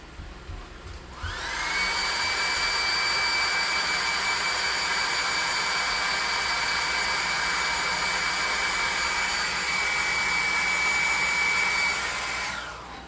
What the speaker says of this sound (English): Then hit it with the hairdryer.